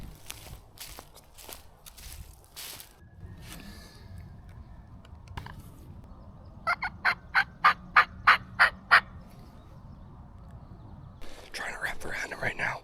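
A wild turkey gobbles in a New York farm field, a rapid burst of about eight loud rattling notes at mid-distance, with quiet whispered talk and rustling footsteps through the grass before and after.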